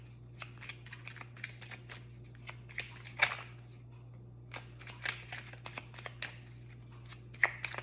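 Tarot cards are shuffled by hand in soft, scattered riffles and taps, quiet and close over a low steady hum.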